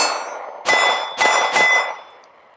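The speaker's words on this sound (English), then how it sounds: "Mags do drop free every time," Three empty magazines from a Beretta APX Carry single-stack 9mm pistol drop free one after another, each landing with a sharp, ringing metallic clang that fades quickly, close and clear with no talking.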